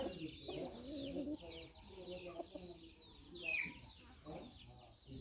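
Free-range country chickens raised in a farm garden cluck and chatter nearby in overlapping bursts, with a higher call rising midway, under a steady outdoor hum and faint talk.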